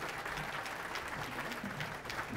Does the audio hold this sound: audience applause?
yes